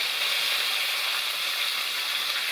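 Steak sizzling as it cooks in a cabin kitchen, a steady broad hiss of frying meat held at an even level throughout, close and continuous with no talk over it.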